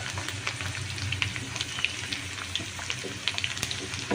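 Hot tempering oil for a Telangana-style lemon pickle sizzles and crackles close by, a steady frying hiss broken by small sharp pops throughout.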